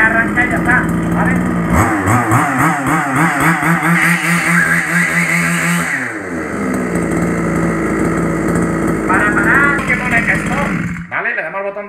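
A Losi 5ive-T large-scale RC car's gas engine fires up and runs, a loud close buzzing two-stroke whine that revs up and down in wavering pitch before cutting off near the end, with someone talking over it.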